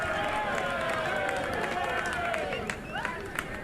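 Baseball crowd at a college game between Sam Houston and Oklahoma stirs and murmurs after a called-strike pitch, a steady broad hubbub with scattered shouts and whistles fairly close, no clear talk over it.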